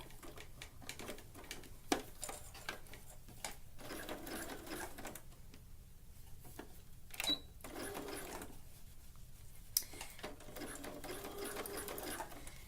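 A sewing machine runs a steady zigzag top stitch along the neckline of a tankini top, its fast needle chatter going continuously for about twelve seconds with a few sharp clicks, fairly quiet and without talk.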